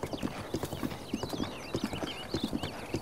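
Horse galloping in the video game Breath of the Wild: a steady, close clip-clop of hooves in quick rhythmic beats, with birdsong chirping in the background.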